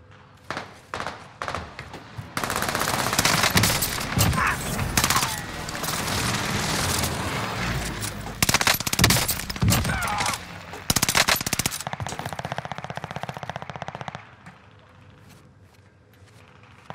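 Rapid automatic XM4 rifle fire in a Rebirth Island battle game, long loud bursts with brief pauses, followed by quieter thuds and footsteps toward the end, with a voice talking now and then.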